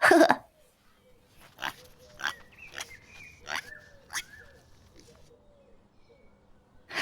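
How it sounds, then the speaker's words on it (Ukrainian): Pigs grunt and squeal in short, scattered bursts, fairly close, with a loud snort at the start and quieter gaps between calls. "У мене є свині. Допоможіть мені їх порахувати."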